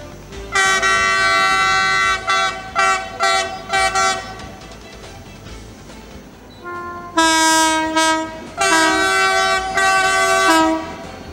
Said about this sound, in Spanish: Ahí suena la máquina.